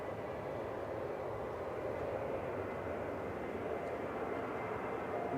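A Ryanair Boeing 737-800 bound for Gdańsk is heard at Manchester Airport as a steady, even jet engine rumble with a muffled mid-range drone. It holds at a moderate level with no talk over it.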